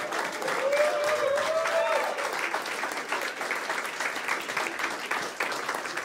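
An audience at a stand-up comedy show claps in a dense, continuous wave that lasts several seconds, with a brief voice heard near the start.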